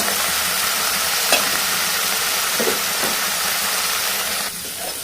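Chopped bottle gourd fries in hot oil with curry leaves and seasoning seeds, giving a loud, continuous sizzle close up with a few soft clinks of a stirring spoon.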